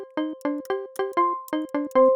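A run of short plucked synth notes with a bright, ringing metallic bell-like resonance, played in a steady rhythm, clear and alone.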